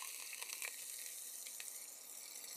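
Onions hit a hot pan and sizzle in a soft, steady hiss with faint crackles, heard close and alone in a rooftop cooking setting.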